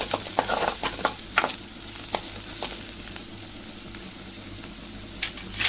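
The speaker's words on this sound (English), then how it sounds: "You want to soften the onions. Our onions are browning." Onions softening and browning in a hot pan sizzle loudly and continuously, with occasional spatula stirs and scrapes close up and no voices.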